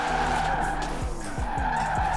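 A Ferrari Enzo slides sideways in Forza Horizon 4, its tires squealing in a long, loud skid over the steady engine whine, with short descending tone sweeps as the car spins.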